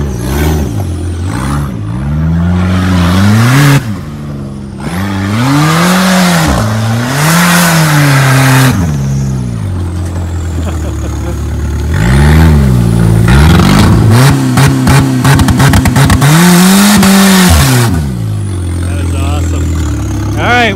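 An old Buick's engine revs hard while the car does donuts, the loud, close engine note repeatedly climbing and falling in long surges, with bursts of rough, rapid rev-limiter stutter.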